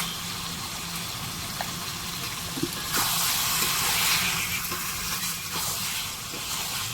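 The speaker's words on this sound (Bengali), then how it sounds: "এবার এটাকে ভালো করে কষতে হবে।" Chicken skin with turmeric sizzles steadily in a hot pan while being sautéed, a continuous close frying hiss that swells louder midway, with faint stirring clicks and no talking.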